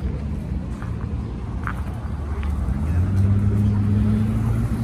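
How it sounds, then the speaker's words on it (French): An Opel GT engine idles and then rises in a low, steady rumble at a car gathering on Place Vauban, heard close and fairly loud with faint background sounds. "Opel GT."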